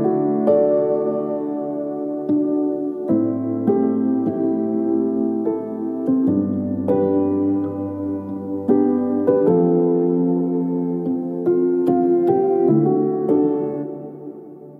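A reordered chord progression plays back in Logic Pro 11, sustained synth or keyboard chords changing every couple of seconds over a steady low bass, loud and continuous with no voices.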